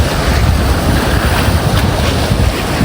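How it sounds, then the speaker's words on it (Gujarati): A river in full flow rushes loudly and steadily, a dense, continuous roar of water heard up close with strong wind buffeting the microphone. "જેટલો અવાજ આવે છે એટલો સાઉન્ડ આવે છે એમ પાણીનો"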